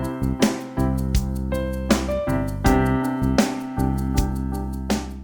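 A full drum kit plays a steady groove of bass drum and snare with cymbals ringing over it, and short fills at intervals, close and fairly loud with no voices.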